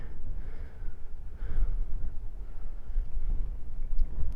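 Steady, loud wind buffeting the microphone outdoors on Dartmoor, a continuous low rumbling roar with gusty swells and no speech.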